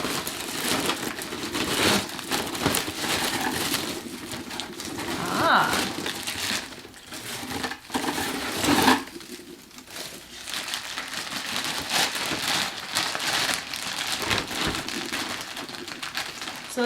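A well-wrapped grocery package is unwrapped with loud, close crinkling and crumpling of plastic wrap, continuous rustles with sharper crackles, and a voice speaking at times underneath.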